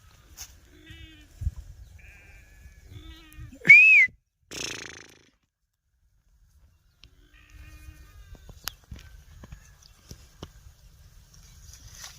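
Village sheep gathered to drink water in hot weather let out two close, loud bleats midway, with soft shuffling and faint movement before and after, and quiet stretches in between.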